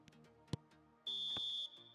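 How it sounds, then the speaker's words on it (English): An electronic alarm beeps during a football video game against the computer, a single steady high tone lasting about half a second, preceded by faint game sounds and clicks. "Alarm."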